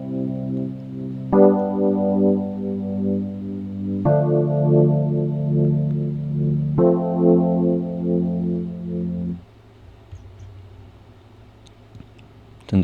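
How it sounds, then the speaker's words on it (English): Soloed electric piano from a produced song plays three sustained, effect-coloured chords, each struck cleanly and held for a few seconds, then fades into a faint low tail. "I'll solo the electric piano by itself so you can hear it better."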